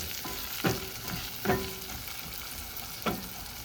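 Food sizzles steadily in a pan seasoned with pepper powder, a constant frying hiss punctuated by three brief stirring scrapes, with no voices.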